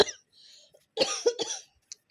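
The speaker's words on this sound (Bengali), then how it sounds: "কাশি হয়ে গেছে, দেখেছো?" A short burst of coughing, two or three harsh coughs close up, with brief quiet before them.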